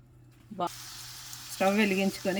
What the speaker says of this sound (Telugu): కడాయి పెట్టుకొని ఇందులో ఆయిల్ వేసుకొని ఈ బాల్స్ను డీప్ ఫ్రై చేసుకోవాలి